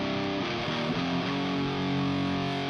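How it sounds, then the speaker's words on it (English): Thick, saturated chainsaw-style distortion guitar tone from an amp simulator plugin on a doom setting, a sustained fuzzy chord ringing dense and loud with no pauses. "this is the Laboga chainsaw distortion"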